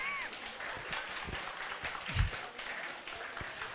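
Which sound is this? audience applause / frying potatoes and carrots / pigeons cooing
audience applause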